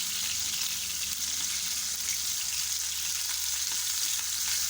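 Kebabs fry in a pan with a steady, bright hiss of hot oil, even and close throughout and moderately loud, with no one speaking.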